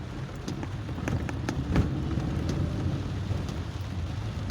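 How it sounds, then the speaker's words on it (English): Rain falling outdoors during a stay-at-home day, a steady dense hiss of drops with a few sharper splashes and patters scattered through, continuous and fairly loud with no voices. "It's raining."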